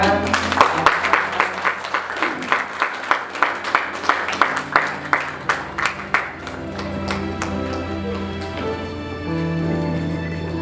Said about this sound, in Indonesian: Ya, mari kita beri tepuk tangan.